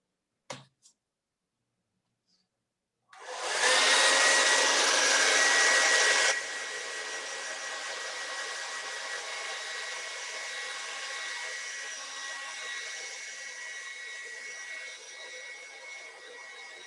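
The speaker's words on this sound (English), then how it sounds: "So I'm gonna hit him with a hair dryer real quick." A hair dryer blasts loudly to dry acrylic paint on canvas, starting after a few clicks, running at high power and then dropping to a lower steady setting until the end.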